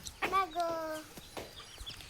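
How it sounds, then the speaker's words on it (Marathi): A hen clucks at a rural home, with one drawn-out call near the start followed by shorter clucks, moderately close, while people talk nearby. "कोंबडी चला"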